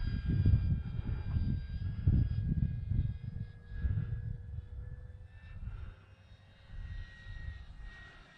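An E-flite 1.2 m Corsair RC model airplane flies in gusty wind, its steady electric motor whine sustained throughout, with wind buffeting rumbling loudly underneath and the drone wavering slightly in pitch.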